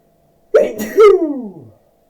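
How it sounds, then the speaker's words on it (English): A single sharp sneeze bursts out close by, followed by a short voiced trailing sound, then silence. "Sorry for that sneeze."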